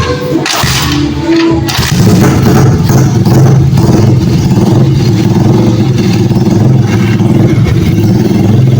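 An old, rust-covered car engine runs loud and close after being started, a rough continuous rumble with clattering, uneven mechanical noise and no talking.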